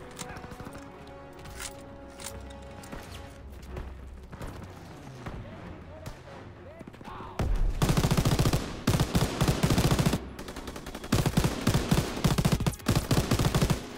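Loud bursts of rapid gunfire from a gun in Call of Duty: WWII, starting partway through and continuing in dense repeated volleys after a quieter stretch of game ambience.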